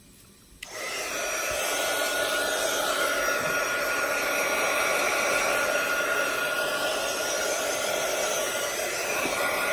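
A hair dryer switches on after a moment of quiet and then blows steadily and loudly at close range, drying paint on a gesso-coated mini vision board background.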